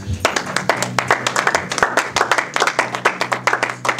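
A church congregation claps in steady, rhythmic unison, close and loud, over a low sustained tone from musical accompaniment, with a voice faintly present beneath.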